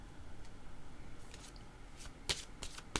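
Tarot cards shuffled quietly up close for another draw, a series of soft riffling flicks and brisk card snaps growing busier toward the end.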